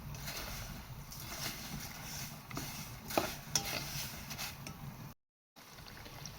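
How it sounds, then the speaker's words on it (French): Vermicelli fry in hot oil while being stirred, giving a soft, steady sizzle with scattered scraping strokes, fairly faint and close, with a short silent break near the end. "Il faut bien surveiller les vermicelles parce que comme vous le voyez, même pas une minute dans l'huile, elles ont déjà commencé à dorer."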